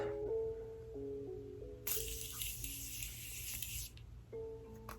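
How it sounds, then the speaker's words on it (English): Morphe Continuous Setting Mist setting spray misted onto a face gives one steady, close hiss lasting about two seconds, with soft background music playing before and after. "I'm gonna be using the Morphe Continuous Setting Mist."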